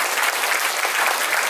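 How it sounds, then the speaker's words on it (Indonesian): Dense, continuous applause from a large audience at a living-museum event, loud and steady throughout with no breaks and no speech over it. "Tepuk tangan dong untuk rekan-rekan sekalian."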